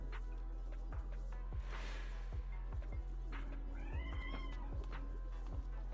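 A cat with a claw caught in the back of a chair meows once in a drawn-out call, faint against a quiet room with scattered low clicks and taps.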